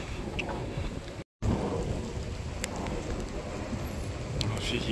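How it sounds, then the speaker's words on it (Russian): Steady rain hiss with scattered drops pattering close by outdoors as rain starts to fall, a continuous broadband wash with a brief dropout partway through. "О, пошел дождик."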